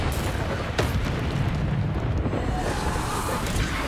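The Bombarda explosion spell in the video game Hogwarts Legacy goes off as a loud, dense rumbling blast with a sharp crack early on, followed by a sustained roaring burst that fades toward the end.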